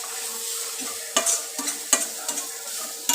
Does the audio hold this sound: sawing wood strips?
no